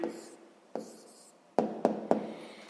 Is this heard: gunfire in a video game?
no